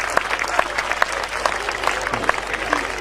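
Audience applause at a Hindi comedy show, a steady patter of many hands clapping at moderate volume, with scattered sharper claps standing out from the crowd.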